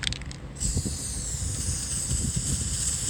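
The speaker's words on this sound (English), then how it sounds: "so this next one I'm just going to spray" A steady, hissing spray from a spray paint can starts after a brief pause and runs continuously outdoors, close and fairly loud, with faint gusty wind rumble underneath.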